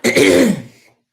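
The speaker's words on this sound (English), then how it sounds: "I've got to clear my throat again." A single loud, close throat clearing, a rough guttural rasp lasting under a second before fading to silence.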